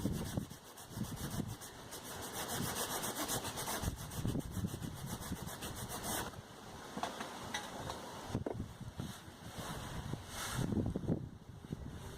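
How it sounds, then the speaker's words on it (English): A single wooden stick is sawn with steady rapid back-and-forth rasping strokes and batoned with occasional dull knocks, close and continuous outdoors with light wind in the background. "A little bit of sawing, a little bit of batoning."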